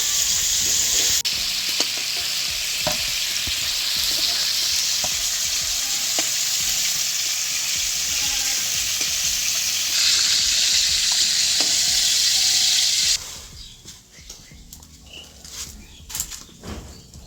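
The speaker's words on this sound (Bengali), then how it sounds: "এইবারে কড়াইতে তেল দিয়ে দেবো, চিংড়িগুলো একটু ভেজে নেব" Prawns fry in hot oil in a kadai with a loud, steady, close sizzle. The sizzle stops abruptly near the end and is followed by quieter stirring and clatter.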